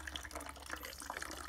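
Murky water running through a backpacking filter into water bottles outdoors, a steady soft trickle and gurgle of liquid, close and alone.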